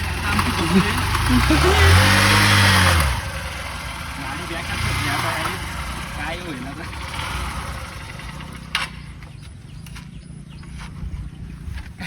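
A car's engine runs and strains while stuck on a broken, muddy road, loud at first with people talking over it, then settling into a quieter steady hum.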